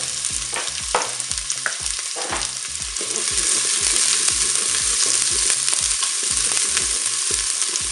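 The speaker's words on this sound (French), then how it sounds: "On va mettre les oignons." Onions frying in hot oil inside a Cookeo multicooker, a steady loud sizzle with scraping stirring strokes and clatter throughout, no talking.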